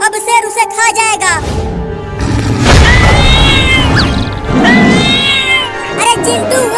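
Cartoon fight between a mother cat and a lion: loud crashes, thumps and yowling cat cries run almost without pause, with animated voices shouting over the scuffle.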